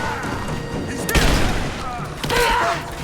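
A gunfire volley in the Rise of the Tomb Raider video game comes as two loud, booming bursts about a second apart. Voices shout in the game around them.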